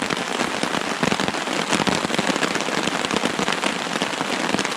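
Heavy rain pounds a tarp at a lake campsite in the Essex Chain Lakes, a dense, loud, steady patter of drops with no voices.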